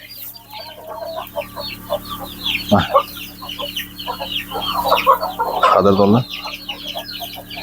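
A flock of month-old Andijan black chickens keeps up busy, close clucking and chirping throughout, with a couple of louder squawks standing out and a single spoken word.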